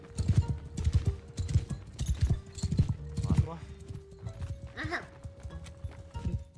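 Donkey hooves clip-clop in Mount & Blade II: Bannerlord, a steady run of close, rhythmic hoof strikes heard beneath people chatting throughout.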